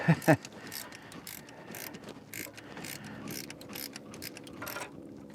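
A ratchet clicks steadily while turning a fastener on the engine of a Ford F600 truck left sitting for 20 years, with a couple of sharp knocks at the start and rapid pawl clicks throughout.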